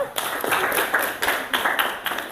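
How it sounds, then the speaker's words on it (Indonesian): A group at a madrasah teacher-training class claps for a presenting group, a dense, lively burst of clapping that stays loud and close throughout, with a few louder pulses. "Tepuk tangan untuk Adiba dan kelompok 4."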